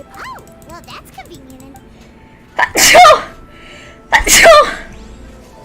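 A person sneezes twice, each a loud, sharp burst close to the microphone, coming a little over a second apart, after a short stretch of voices and game sounds from a Genshin Impact livestream.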